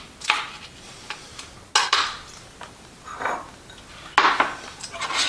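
A knife chops onion on a cutting board in a home kitchen, with sharp irregular knocks and clacks separated by short pauses.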